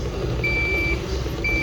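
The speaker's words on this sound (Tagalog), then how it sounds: "So alarm pa siya ng alarm kasi nga may isi-setting pa tayo." Deye hybrid inverter alarm sounding during setup: two long, steady electronic beeps separated by a short gap, clear over a low background hum, with no one talking.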